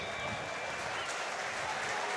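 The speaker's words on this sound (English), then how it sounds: "Big ovation for Archer as he comes off." Crowd ovation at a Munster versus Leinster preseason rugby match as a veteran player leaves the pitch: sustained, dense applause from the stands, steady and fairly loud throughout, with commentary voices faintly mixed in.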